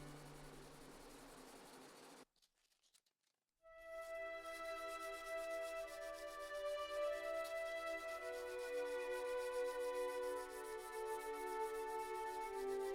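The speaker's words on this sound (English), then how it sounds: "The final polish is done with 600 grit sandpaper." Steel sword blade being hand-polished with 600 grit sandpaper over a steel guide piece, a steady close scratchy rubbing that runs continuously after a brief quiet pause early on.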